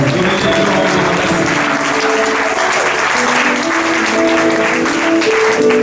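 A church congregation applauds together at the close of a prayer, a dense, steady wall of clapping that fills the room, with cheering voices and a few sustained tones running beneath it.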